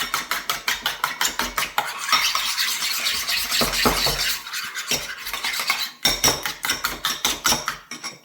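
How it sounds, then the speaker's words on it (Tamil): Two eggs with pepper powder are beaten hard in a bowl for masala egg dosa, making rapid, regular clinking strokes close by that run almost without pause. "இப்போ அது கூட மிளகுத்தூள் இப்போ இதை நம்ம நல்லா அடிச்சுக்கணும்"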